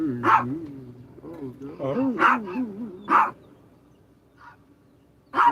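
A puppy gives several short, sharp barks spaced out over a few seconds, close by, with a person talking softly in between.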